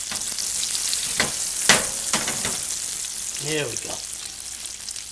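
Salmon searing in a hot pan gives off a steady, close sizzle throughout, with a few brief scraping sounds and a short spoken remark partway through.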